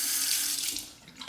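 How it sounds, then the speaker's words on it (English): Water pours into a shaving lather bowl in a short, close, steady splashing trickle that eases off toward the end. "Let me add a little bit of water."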